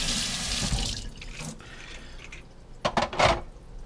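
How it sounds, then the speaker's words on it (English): Hot water runs hard from a kitchen tap into a sink, rinsing grease off, with a steady rushing splash and a couple of sharper bursts of spray near the end. No one speaks. "Rinse the grease off with hot, hot, hot water."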